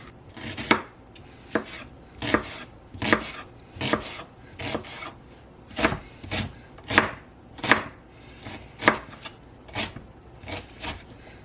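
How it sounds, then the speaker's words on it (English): A kitchen knife chops through a medium-sized onion on a cutting board in steady, crisp strokes, about a dozen close, even knocks with no talking. "Medium-sized onion is good. I cut the ends off."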